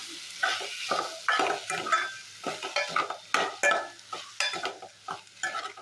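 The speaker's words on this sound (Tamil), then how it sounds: "அதை நல்லா கிண்டிக்கோங்க" A spoon stirs prawn gravy in a pan just after fresh coriander goes in, making repeated scraping strokes with soft sizzling underneath, close and fairly loud, with no talking.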